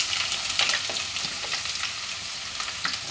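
Chopped onions and green chillies frying in about three spoons of hot oil, a dense, steady sizzle with faint crackles and occasional stirring scrapes, close and continuous with no talking.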